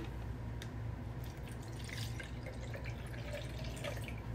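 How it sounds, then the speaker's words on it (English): Water pours into a small household machine, one cup filled in, as a steady close trickle and splash running throughout with no talk over it. "Oh, you just pour water straight in?"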